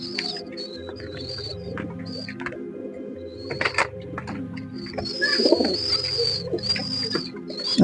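Pigeons coo repeatedly in soft, rolling phrases where young pigeons are kept, with bird calls overlapping throughout and no voices present.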